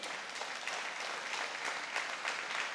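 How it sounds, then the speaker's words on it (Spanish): Steady applause fills a church service as a congregation claims a sermon moment, dense and even throughout with no talking over it. "Dale fuerte el aplauso al Señor."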